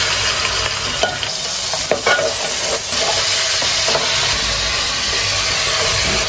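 Minced meat frying loudly with browned onion and whole red chillies, a dense continuous sizzle with occasional faint stirring scrapes throughout.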